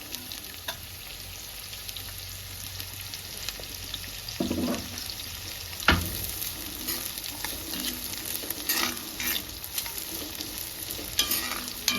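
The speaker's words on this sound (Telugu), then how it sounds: "బాగా ఫ్రై చేసుకోవాలి గోల్డెన్ కలర్ వచ్చేంత వరకు" Sliced onions and green chillies fry in oil in a pan, giving a continuous, dense sizzle close up with occasional stirring scrapes and a few louder crackles throughout.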